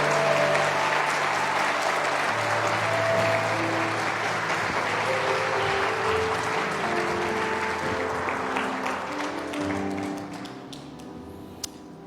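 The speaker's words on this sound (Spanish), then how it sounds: "Si vas a aplaudir, apláudele a Él, porque lo amas," Sustained applause from a church congregation fills the room for about ten seconds, with a soft held instrumental tone beneath, then thins out and fades near the end.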